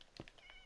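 A cat meows in the video game Minecraft, a couple of short, quiet mews in quick succession, faint and alone without talk.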